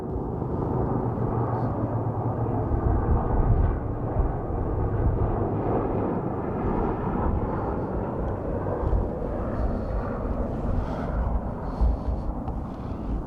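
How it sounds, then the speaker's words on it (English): A heavy, continuous rotor roar rumbles throughout as a helicopter flies close through a canyon amid buffeting wind noise. "The helicopter just flew the canyon."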